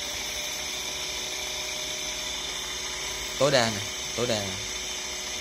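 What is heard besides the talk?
homemade servo-driven six-bit gang drill running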